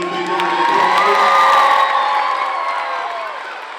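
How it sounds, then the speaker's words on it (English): A school assembly crowd of students cheers loudly during an anti-bullying presentation, with high excited shouts and whoops swelling into a sustained roar that fades slightly toward the end. "can we give Robert and Beth Page better credit in a big round of applause?"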